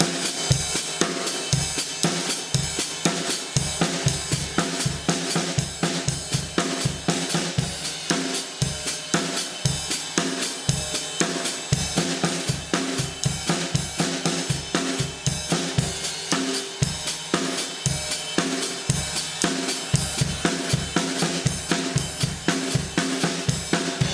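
Drum kit playing an eighth-note paradiddle independence exercise at a brisker tempo, with dense, steady, evenly spaced hits running continuously and loudly throughout, with no talking.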